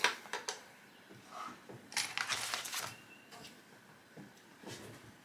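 Quilt fabric being cut along a drawn corner-to-corner line, heard up close as a few short, crisp crunching and scraping bursts, with the densest stretch in the middle and quiet gaps between.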